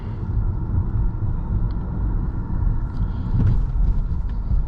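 A 2016 Audi A3 sedan driving and accelerating gives a smooth, low, continuous rumble inside the cabin that swells slightly partway through, with only faint higher road noise and no speech.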